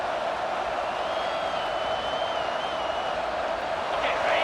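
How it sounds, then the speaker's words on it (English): A packed stadium crowd at a college football game between the Sun Devils and Buckeyes roars as a continuous distant wash of cheering, steady and loud with a faint whistle-like tone riding on top. "Listen to this crowd just shaking the girders of this place, trying to help their defense."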